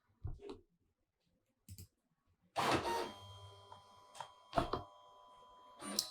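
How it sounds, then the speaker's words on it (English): A Silhouette cutting machine starts a job cutting address labels: scattered short mechanical clicks, then a whirring motor with a steady tonal hum and a few clunks and taps as the carriage moves, heard up close in a quiet room. "all we have to do is hit send, and that's going to send to the cutting machine"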